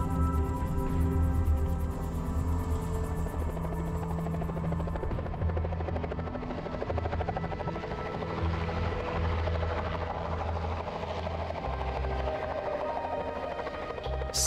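The steady thumping drone of a helicopter on a polar bear relocation operation in Churchill continues throughout, loud and close, with a constant hum underneath.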